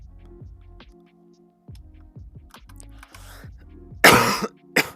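Several dry coughs and throat clearings, close to the microphone, ending with a louder harsh cough burst near the end; quiet clicks between them.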